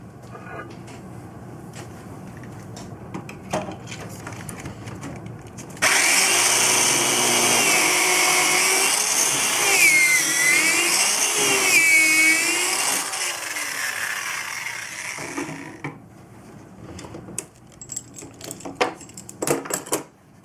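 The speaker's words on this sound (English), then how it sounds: "So now it's just a matter of drilling the hole." A power drill bores a hole through wood for a joint in a saw crate, running loudly and steadily for about ten seconds with rising and falling pitch, preceded and followed by quieter handling noises.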